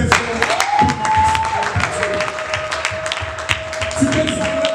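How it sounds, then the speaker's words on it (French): A church congregation cheers and claps steadily throughout, with voices mixed into the applause and a held musical tone running under it. "et nous acclamons très fort"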